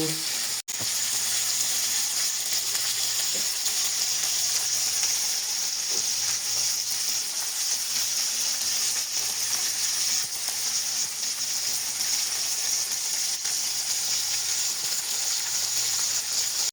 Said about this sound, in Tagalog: Yan lang natin siyang prito ng maayos